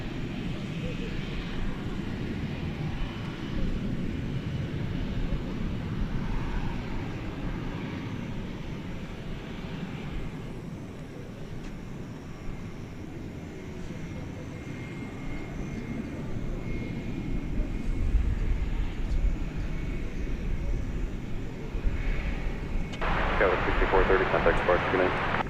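An American Airlines Boeing 787-9 Dreamliner lands at night at DFW Airport on runway 18 right. Its steady, distant jet roar holds throughout and swells slightly near the end, with a person talking over it.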